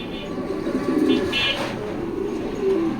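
Caged racing pigeons give soft, throaty coos in a few short bursts, close by and fairly clear, with a low background hum behind them.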